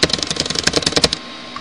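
A quick, close burst of clattering keystrokes on a computer keyboard, about a dozen rapid clicks in a row before stopping abruptly.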